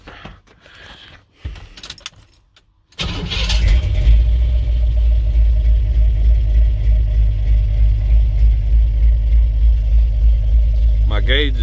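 A cammed GMC Sierra OBS pickup truck engine starts and settles into a loud, rough, lopey idle with a deep rhythmic rumble that continues steadily, after some brief handling noises.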